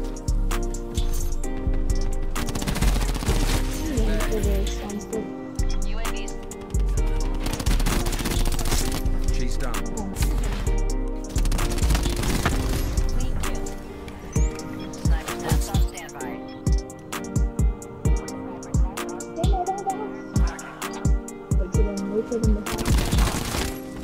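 Rapid gunfire from a suppressed SAUG 9mm submachine gun in Call of Duty: Black Ops 4, repeated bursts and sustained automatic fire with brief pauses, loud and close, with players talking throughout.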